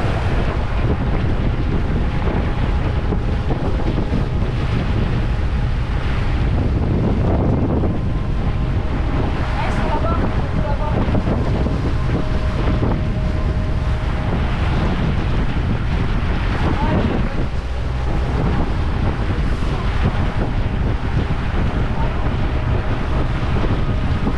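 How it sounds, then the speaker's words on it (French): Steady, roaring headwind buffets the microphone at sea near Marigot, with water rushing past a moving boat throughout and no voices. "on a le vent dans le nez"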